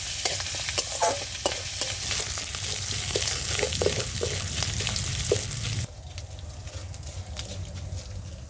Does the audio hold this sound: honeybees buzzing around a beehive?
no